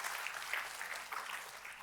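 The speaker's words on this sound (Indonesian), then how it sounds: "Tepuk tangannya boleh paling meriah buat Tuhan kita." A church congregation applauds in a steady, dense wash of clapping that lasts throughout, heard from a distance.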